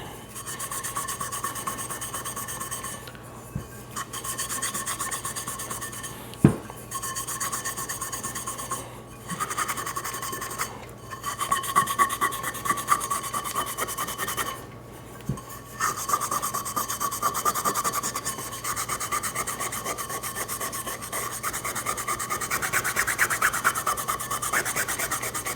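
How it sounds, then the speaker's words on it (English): Scotch-Brite pad scuffing over raised lettering on the bottom of a powder-coated tumbler, a steady dry rubbing rasp with brief pauses between strokes, close and continuous. "You can hear the Scotch-Brite going over all of that lettering on the bottom side of the cup."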